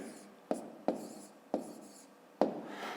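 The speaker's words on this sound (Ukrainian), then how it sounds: "Ну і записуємо тоді відповідь. Пишемо відповідь." Hand-written answer to a fifth-grade maths exercise, with a few separate short scratchy strokes and taps of a pen on paper, close and quiet.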